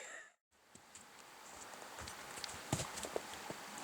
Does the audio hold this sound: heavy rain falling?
no